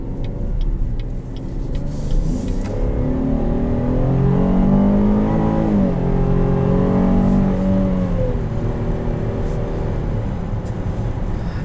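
A 2021 Buick Enclave Essence with a 305-horsepower V6 and nine-speed automatic drones steadily from inside the cabin while driving, its engine note rising and falling smoothly through the gears at a loud, even level.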